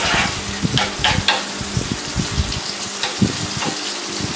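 Garlic and ginger frying in hot oil for tomato pickle, a continuous close sizzle with stirring scrapes and soft bubbling bursts throughout, with no talking.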